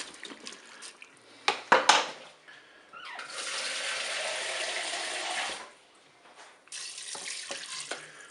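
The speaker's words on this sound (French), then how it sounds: "maintenant on va mettre de l'eau pour recouvrir les ingrédients" Water pours from a tap into a Cookeo multicooker pot to cover chicken, spaghetti and artichoke ingredients, a steady rushing stream for a few seconds, framed by short clinks and splashes, no talking.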